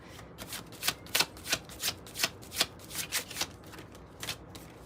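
A deck of tarot cards is shuffled by hand, giving about a dozen crisp, evenly spaced riffling swishes close up, steady and moderately quiet, with no voice.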